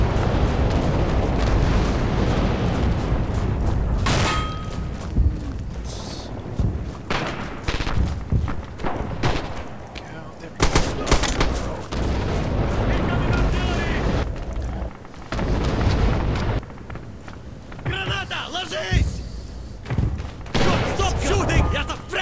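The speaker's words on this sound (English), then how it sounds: "Target 6907, Buffalo 3 accepted. Guns firing as requested." Artillery barrage in the video game Red Orchestra 2, loud repeated booming blasts and thuds rolling on for a long stretch, with a voice speaking over the explosions.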